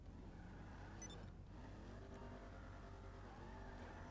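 A modified car engine in GTA Online drones and revs continuously at a steady, moderate level, with a brief dip and swell in pitch midway.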